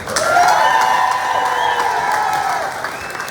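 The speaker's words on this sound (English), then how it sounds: "If you love somebody in recovery, let me get a round of applause." A crowd at a recovery walk event claps and cheers, with whoops and raised voices riding over steady applause, loud and sustained before easing off slightly.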